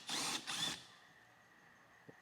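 A ratchet fitted with a T30 bit backs out T30 screws on a Land Rover LR3 while fixing a hood-open alert: two short, loud, close whirring bursts in quick succession, then near silence with one faint click at the end.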